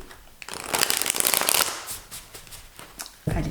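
Tarot cards being shuffled for a reading give a close, crisp riffling flutter that rises, fades, and ends in a sharp slap as the deck is squared. A voice speaks faintly underneath.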